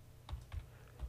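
Three separate keystrokes on a computer keyboard while entering a component name in structural modelling software, soft and close with short gaps between clicks and no talking.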